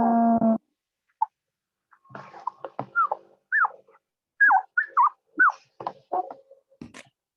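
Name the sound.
small pet dog whimpering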